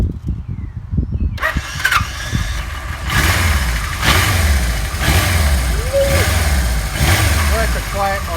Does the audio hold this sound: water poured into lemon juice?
no